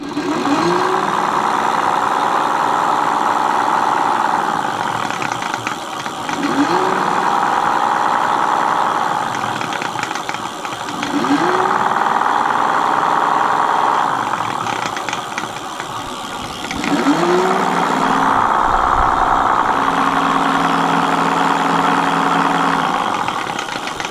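Hub motor of a mate X 20x4 fat tyre electric bike running on pedal assist level 4 after being packed with more grease, giving a steady close mid-pitched whirring drone with repeating swells and faint knocking.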